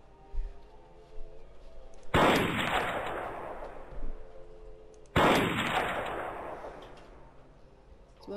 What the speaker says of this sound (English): So when I shot that last time, everything else blew up.